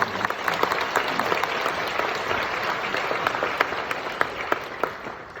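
After a choir performance at a school foundation's faith retreat, an audience breaks into sustained applause, a thick bed of clapping with sharp individual claps popping out above it, fairly distant in a large room.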